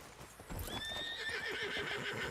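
Video-game horse in a snowy winter ranch setting: hooves clip-clop in a steady rhythm while the horse gives a clear, drawn-out whinny over them, moderately close with no talk.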